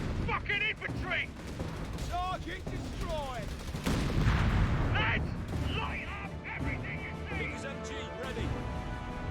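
Battle in the Company of Heroes 3 strategy game: bursts of rifle and machine-gun fire with heavier artillery blasts, near and distant, amid shouted soldier voices and a commentator talking over the din.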